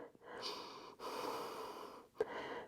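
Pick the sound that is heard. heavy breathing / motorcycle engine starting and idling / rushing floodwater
heavy breathing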